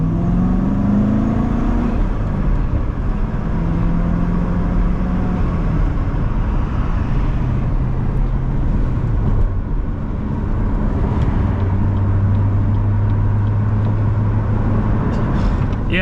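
Inside a car while driving, a low, steady road and engine hum runs throughout, with faint drifting tones from the drivetrain and no sudden changes.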